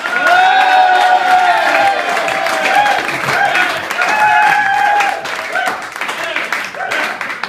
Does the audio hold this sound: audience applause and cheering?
yes